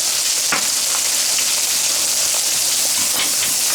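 Butter sizzling in a hot pan around a 36 oz ribeye steak, a loud, even frying crackle and hiss that carries on without a break, with a few sharper spits.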